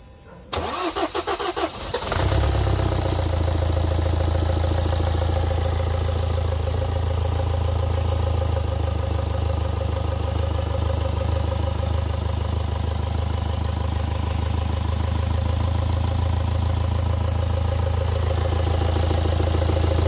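A BMW car engine at a repair shop cranks with a rapid rattling starter for about two seconds, catches, then settles into a loud, steady idle that continues unbroken.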